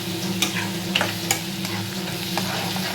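Curry leaves frying and crackling in a pan of mushroom curry, a steady close sizzle with scattered pops and stirring scrapes and no talking.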